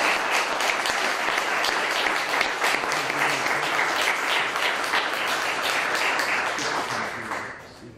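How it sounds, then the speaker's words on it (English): A room full of people at a county celebration claps steadily in sustained applause for about seven seconds, dense and even throughout, then tapering off at the end. "Let's have a round of applause."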